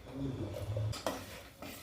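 Spoon stirring dissolved jaggery syrup into simmering moong dal payasam in a pot, a few close scraping clinks of metal against the vessel over a bubbling background, with a brief louder clatter midway.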